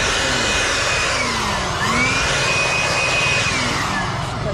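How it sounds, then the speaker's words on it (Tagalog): A powerful air blower runs steadily and loudly throughout, with a broad roaring hiss and a slight whine that dips and rises once, used on a concrete slab extension being prepared for leak repair. "dala natin yung ating pangmalakasang blower, di ba?"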